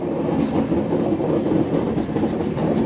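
A Rajahmundry to Chennai superfast express train rolls along at speed, a loud continuous rumble with steady rhythmic wheel clatter heard from on board, without voices.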